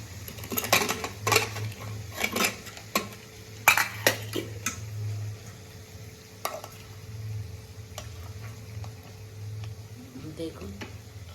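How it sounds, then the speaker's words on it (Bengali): A pressure cooker holding soybean curry with lou is opened in a home kitchen, with clattering metal lid and utensil clinks, scraping and a steady low hum, busiest in the first few seconds and fading to occasional taps. "আমি এখন এটা খুলবো প্রেসার কুকারটা"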